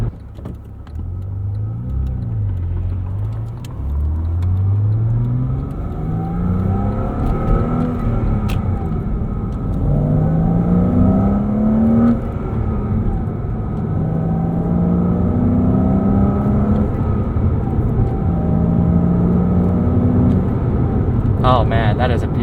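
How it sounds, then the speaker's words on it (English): A 2005 manual Porsche Boxster S engine revs with a deep, throaty induction sound, low rising and falling pitch sweeps as the revs climb and settle, steady and fairly loud throughout. "But it makes a beautiful induction noise at lower RPM"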